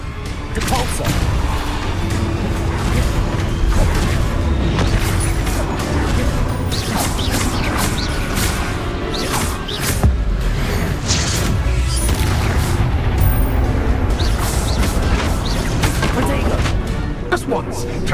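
Spell impacts from the Depulsor charm thud and crash in the video game Hogwarts Legacy, layered over dense, continuous combat noise and game voices, with repeated hits and bursts throughout.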